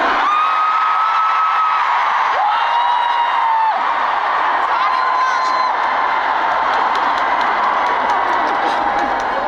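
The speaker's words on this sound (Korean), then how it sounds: "제가 물 마실 때마다 팬분들이 소리 지르는다!" A large concert crowd of fans screams loudly and continuously, high-pitched shrieks blending into a dense roar with scattered whoops.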